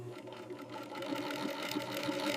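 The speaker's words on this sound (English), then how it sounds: "Skilled artisans stitch the panels together using heavy-duty nylon thread." A heavy-duty industrial sewing machine stitches buffalo leather bag panels with thick nylon thread in a factory, producing a steady mechanical whir and rapid needle chatter that builds slightly in loudness.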